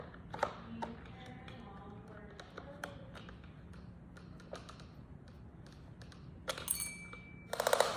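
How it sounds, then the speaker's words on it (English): Small screws being undone on a plastic octopus bubble machine make quiet clicks, taps and ratcheting turns of a screwdriver, close and faint, ending in a few sharper plastic rattles. "now the next thing we need to do is undo all of these screws here"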